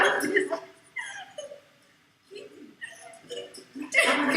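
A dog whimpers and yips in short, high, wavering bursts separated by quiet gaps, close by and fairly faint, with a person talking around the sounds.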